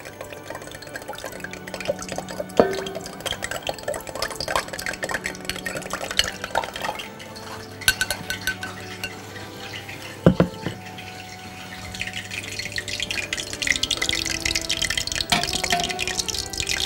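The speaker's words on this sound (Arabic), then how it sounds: "هنشيل السويت بريدز او النفوس نحطها في المية المغلية، هنسويها نص سوا" Sweetbreads go into a pot of boiling water and simmer: steady bubbling and drips with occasional clinks of a utensil against the pot, up close and continuous, with no talking.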